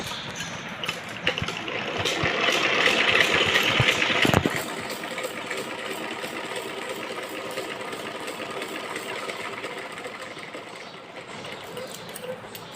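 A sewing machine stitches fabric pieces of a kachli together, a close, buzzing run that builds over the first few seconds and cuts off sharply, leaving a quieter, lower mechanical hum.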